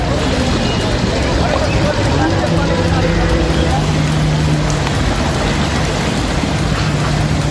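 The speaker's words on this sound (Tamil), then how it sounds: "அம்பாலாவிலும் கனமழை கொட்டி தீர்த்தது." Heavy rain pours down in Ambala in a dense, steady roar with no breaks, loud and close, while faint background babble of voices sits under the downpour.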